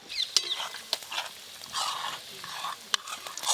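Spice paste with red chili powder and yogurt sizzles and crackles in a pan over very low heat, with soft stirring scrapes and a few sharp clicks, close and moderately loud, no talk.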